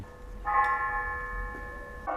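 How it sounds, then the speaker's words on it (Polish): A church bell in Zielona Góra strikes twice, a faint ringing tone that hangs and decays, then sounds again near the end, with no talk. "Cały czas mówiłem, że tak biją dzwony. Nikt nie wierzył, a teraz możecie posłuchać."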